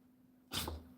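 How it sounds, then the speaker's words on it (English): A single sharp, forceful dog sneeze bursts out of near-silence, close by, followed by a brief snuffly trail. "Oh, big sneeze."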